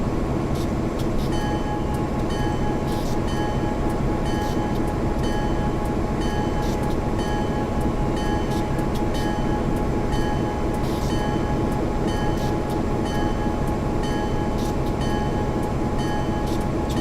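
Train in Train Simulator 2020 running steadily through a curve on the northern end of the line, a continuous loud rumble with faint rail clicks, sustained throughout with no talk.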